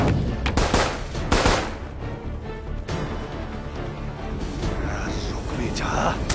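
Gunfire in the anime film Appleseed Alpha: loud bursts of automatic fire and single shots come early, then lighter shots and effects follow over a busy soundtrack, with voices speaking through it.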